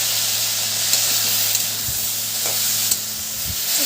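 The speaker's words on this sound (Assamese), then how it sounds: "তো আৰু ইফালে আলু ভাজি বনালো" Potatoes fry in a hot pan with a steady loud sizzle, while a utensil stirs and scrapes them in occasional knocks and clatters.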